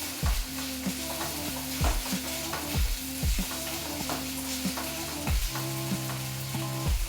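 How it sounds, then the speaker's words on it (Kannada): Tomatoes frying in a pan for Indian dal khichdi, stirred with steady, repeated scraping strokes over a continuous low sizzle, close and fairly loud, with no voices. "ಟೊಮೆಟೊನು ಅಷ್ಟೇನೆ ಮೆತ್ತಗೆ ಹಾಕ್ಬೇಕು. ಅಲ್ಲಿವರೆಗೂ ಸ್ವಲ್ಪ ಫ್ರೈ ಮಾಡ್ಕೋಬೇಕು."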